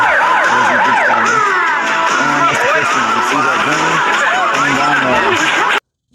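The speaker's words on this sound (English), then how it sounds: "ambulance comes flying down the street" Ambulance siren in a 1990 Problem Child film scene, loud wailing and yelping tones sweeping up and down continuously amid street noise before cutting off abruptly.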